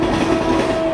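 An empty train rake rolls past on the rails, giving a brief, steady rumbling roll at moderate level.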